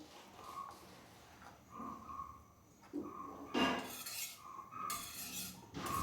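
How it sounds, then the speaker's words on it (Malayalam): A spoon stirs Kerala-style chicken curry in a metal pot, giving repeated scraping and clinking against the pot in an irregular rhythm, close and moderately loud over kitchen background noise. "നന്നായിട്ട് നമുക്കിതൊന്ന് ഇളക്കി യോജിപ്പിക്കാം"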